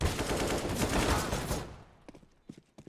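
Sustained rapid AK-47 automatic fire in a Counter-Strike match on the map Train, heard as a dense close burst that cuts off, followed by a few scattered lighter taps and thuds.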